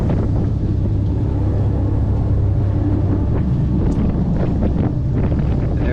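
Twin Yamaha F200 outboard motors maneuver a Stabicraft 2500 boat on the water, a steady low engine rumble heavily buried under loud wind buffeting on the microphone.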